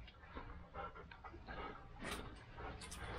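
A dog pants quickly and rhythmically close by beside icy water near flooded mines along a Colorado jeep trail, with a few soft whimpers breaking the steady breathing.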